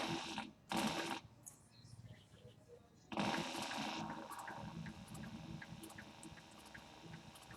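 Sewing machine stitching a canvas and leather tote bag, close and fairly quiet, with short bursts of motor hum and rapid needle chatter separated by pauses, and a voice talking over it.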